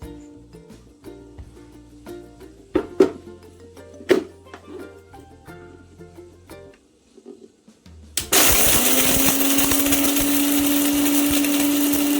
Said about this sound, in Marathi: पोडीचा आपल्याला चुरा करून घ्यायचा आहे म्हणजे मिक्सरमध्ये बारीक करून घ्यायचा आहे